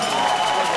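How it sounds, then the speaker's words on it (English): Brief burst of crowd applause at the launch rally of the Alliance for Revolutionary Change, a political event, a dense steady wash of clapping filling the whole moment with no pauses. "A round of applause for Mr."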